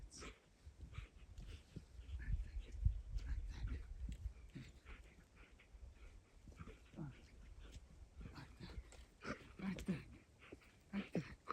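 A dog in the mountains whimpers and yips faintly in short, uneven bursts, mixed with panting and rustling, while a person talks at times.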